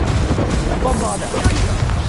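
Bombarda spell blasts in Hogwarts Legacy combat against goblins: loud booming explosions over a rumbling battle din, with a shouted voice mixed in.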